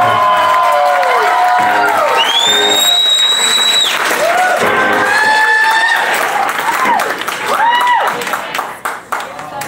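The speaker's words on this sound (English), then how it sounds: "We'll give a round of applause to sound people generally" Concert crowd at a live club show cheering and clapping loudly, with whoops and shouts over the applause, while sustained tonal sounds slide and swell across it before the noise thins near the end.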